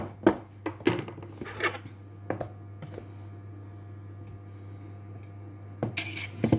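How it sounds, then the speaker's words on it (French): A flat anti-lump whisk stirs flour and sugar into batter in a bowl. Clinks and scrapes come in irregular bursts, with quieter stretches between them. "Donc là, j'ai rajouté ma farine et je commence à mélanger."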